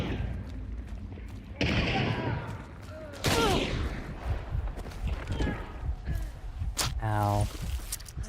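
Video game shotguns fire in several sharp, heavy blasts spread across a few seconds, close and loud, mixed with other game effects and a player's voice.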